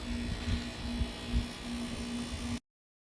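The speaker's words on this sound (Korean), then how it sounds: "실외기가 가동을 잘하고 있습니다" Outdoor unit of an LG 6-pyeong wall-mounted air conditioner running after installation, giving a steady electrical hum with a constant low tone and faint rattles, fairly close, with no talking.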